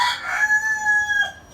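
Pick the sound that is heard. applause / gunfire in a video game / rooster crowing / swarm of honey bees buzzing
rooster crowing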